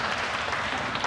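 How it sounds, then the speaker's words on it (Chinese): A church congregation at a Sunday worship service on Mother's Day applauding the Sunday school children, a dense, continuous round of clapping from many hands filling the room. "咱甲伊一个鼓掌一下"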